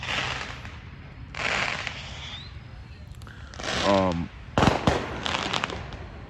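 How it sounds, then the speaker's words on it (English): Fireworks set off in a Chicago neighborhood in September, heard as a few sharp bangs and crackling bursts at a moderate distance, scattered irregularly across the stretch amid outdoor background noise. "That's Chicago for you, September, blowing up fireworks."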